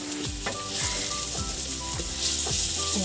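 Garlic and onion fry in butter in a pan, a steady close sizzle with the scrape and tap of stirring at intervals.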